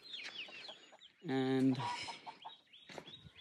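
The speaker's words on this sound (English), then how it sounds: "Oh yeah, you can see chickens over there." Farm chickens cluck and a hen gives a loud, squawking call close by, mixed with brief bird chirps, while a person speaks softly in the background.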